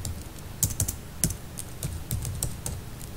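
Code being typed on a computer keyboard, a quiet run of light, irregular key clicks alone, close to the microphone.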